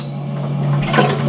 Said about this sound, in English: This button flushes the toilet.